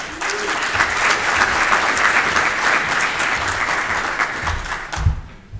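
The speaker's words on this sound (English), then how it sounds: "Please, small applause for welcome" An audience at a talk on online games gives sustained, dense applause to welcome a speaker, steady and fairly loud before tapering off near the end.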